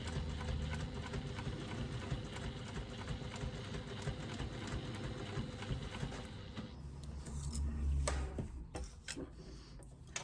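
Sewing machine stitching a bag strap, a rapid continuous mechanical whir and ticking of the needle running for several seconds, then slowing and stopping with a few clicks, close by.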